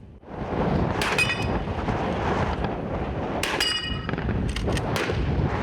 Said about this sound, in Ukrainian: Стріляли стоячи, лежачи і в русі.